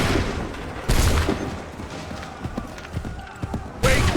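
A musket volley in Assassin's Creed III bursts out as a loud, sharp crack of massed fire near the start. A second volley follows near the end, with scattered thumps, hoofbeats and background battle noise between them.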